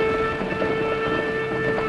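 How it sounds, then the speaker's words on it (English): A train approaches with a steady held horn tone over a low rumbling rail roar, loud and continuous, with no talk. "There's our train."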